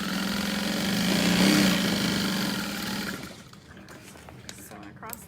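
Sewing machine stitching straight across the bottom of a structured fabric tote bag, a steady mechanical whir for about three seconds before stopping, leaving quiet room noise.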